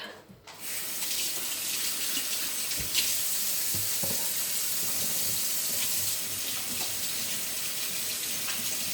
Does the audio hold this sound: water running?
yes